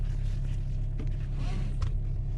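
Volkswagen Jetta 6 with a 1.8 TSI engine pulling away after the brake is released, a steady low cabin rumble throughout with faint scattered clicks and rustles, no one talking.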